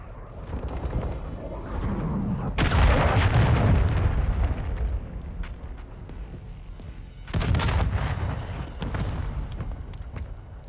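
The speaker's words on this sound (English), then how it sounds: "Hostile cruise missile incoming." Cruise missile strike in Call of Duty: Modern Warfare II, heavy booming explosions with deep rumbling impacts, two big blasts rising out of ongoing battle noise and scattered gunfire, loud and close.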